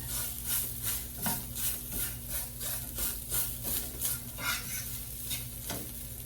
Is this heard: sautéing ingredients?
yes